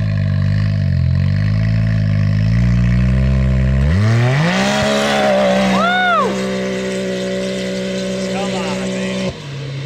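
A Can-Am Maverick X3 UTV on E85 with a Stage 6 build launches hard off the line, its loud engine note sweeping sharply upward and then holding near the rev limiter before cutting off, with people talking nearby.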